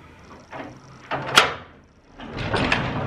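A door being opened nearby, with a creaking slide and a sharp knock or latch clack in the middle, followed by rustling movement and shuffling.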